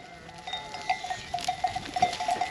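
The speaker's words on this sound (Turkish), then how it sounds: "Bak koyun." Sheep on a farm during a hot, dusty drought, with repeated short bleats over a steady background of flock noise and a faint bell-like tone.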